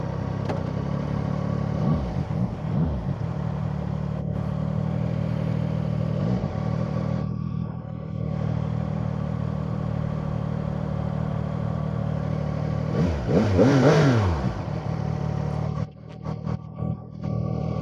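A CF Moto 675 motorcycle engine hums steadily while riding, with wind noise, a rising rev around the middle, then the engine easing off near the end.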